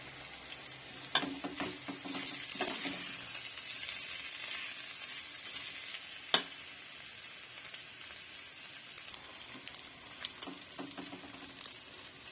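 Mutton liver, potato and pepper fry with curry leaves sizzles quietly and steadily in the pan, with occasional soft stirring clicks and scrapes over the hiss.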